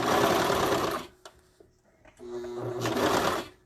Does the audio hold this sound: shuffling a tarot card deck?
no